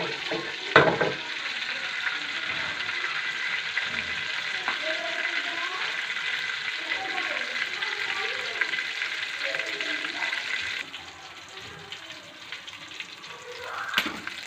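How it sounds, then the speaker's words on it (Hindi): Cumin seeds sizzle in hot oil at the start of a pumpkin (petha) curry, a steady close crackling hiss that runs throughout and softens slightly near the end. "दो से 4 मिनट लगेंगे हमें ज़ीरे को तराड़ने में।"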